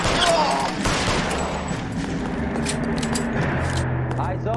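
Gunfire rings out in the crime video game L.A. Noire, a burst of sharp shots at the start followed by scattered reports under game noise and voices.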